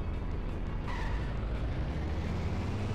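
Car engine in a racing video game, a continuous loud roar with steady low rumble and a slight pitch shift midway, no voices.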